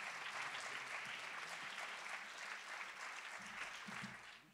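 Sustained applause fills the hall during a university ceremony with an inauguration and diploma presentations. The clapping is steady and even but fairly faint, as if picked up from a distance, and fades slightly at the close.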